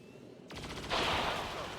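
Mech cannons in XCOM 2 open fire as a sudden loud burst of rapid concussive shots, building into a heavy sustained roar of gunfire.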